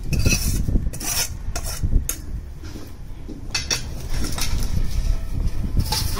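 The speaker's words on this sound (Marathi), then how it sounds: "हे कढईत घालायचं असं आणि हे सगळं हलवून घ्यायचं." A utensil stirs and scrapes thin poha flakes around a kadhai while making chivda, giving repeated metallic scraping and rustling strokes at close range, irregular in rhythm and fairly loud, with no talking.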